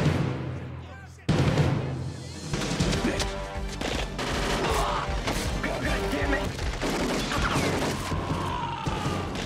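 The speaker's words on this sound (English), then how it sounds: "Put a bullet in the chemist." Gunshots from the 1995 action movie Bad Boys: dense bursts of rapid gunfire and crashing impacts in a loud, chaotic film mix, with brief shouted voices.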